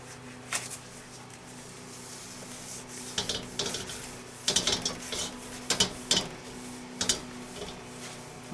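A thin coat of oil is rubbed around the rivets and wooden handle of a wok, heard as soft intermittent scraping and wiping strokes close by, some brief rasping bursts in a quiet room.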